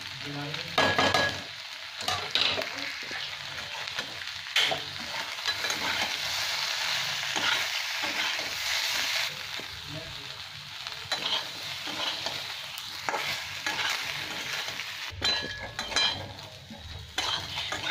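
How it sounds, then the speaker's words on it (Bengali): Ground coriander, cumin, Kashmiri and red chilli powders with turmeric fry against boiled taro (arbi) in a pan, a steady close sizzle broken by repeated scraping strokes of a spoon stirring through the mixture. "আর 2 মিনিট এরকম নাড়াচাড়া করে লাগিয়ে নেব"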